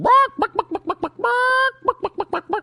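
Recorded chickens clucking as a sound effect, a rapid series of sharp clucks broken by a longer drawn-out squawk, loud and close with no talking over it.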